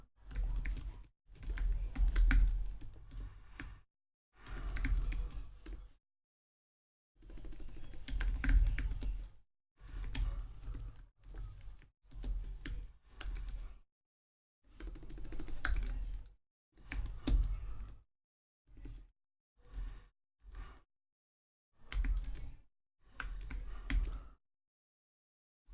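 Typing code on a computer keyboard: bursts of rapid, close key clicks separated by short silent pauses, clear and alone with no talk.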